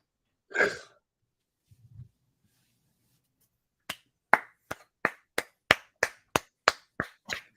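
One person at an Ahsoka episode watch party claps about a dozen times in a quick, even rhythm, each clap sharp and close. A brief vocal burst and a soft thud come first, with silence in between.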